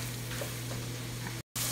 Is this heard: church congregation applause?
no